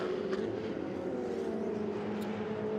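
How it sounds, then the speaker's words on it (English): A Ferrari Challenge race car engine on track gives a quick throttle blast, a loud, steady droning roar with a sustained pitch that holds for about three seconds, with no one speaking. "So we see the Ernst Kirchmayr car now then into turn 1, now turn 2, and just a quick blast of throttle before we reach turn number 3"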